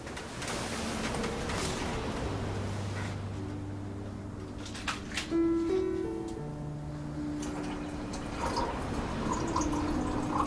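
Water poured into a glass for a drink, with soft trickling and dripping against a quiet background; occasional small clinks and a faint tonal hum run through the pour.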